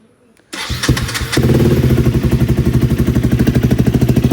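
A KTM Duke 250 motorcycle with a loud aftermarket exhaust cranks and fires up, then settles into a close, throbbing idle with a fast, even pulse.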